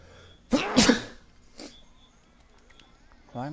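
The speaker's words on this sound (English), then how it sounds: "Why am I sneezing" A loud, close sneeze bursts out amid a quiet game soundscape, then a smaller follow-up sneeze or sniff, with a brief voice starting at the very end.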